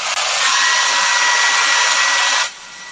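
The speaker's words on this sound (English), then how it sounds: "I'm going to take my blow dryer" A hair dryer blows loud and steady with a harsh airy roar for about two and a half seconds, then cuts off abruptly.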